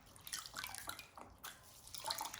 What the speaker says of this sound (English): let's take the water out of the bottom.